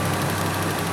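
A warm VE Commodore V6 idles after a timing chain replacement, giving a smooth, even low hum that stays steady and close with no talking over it.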